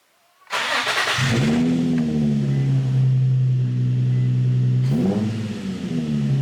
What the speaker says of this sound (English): you first gotta start the car